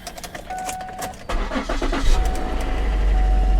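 A high-mileage car engine cranks and catches after a faint jingle of keys, then settles into a steady low idle close by.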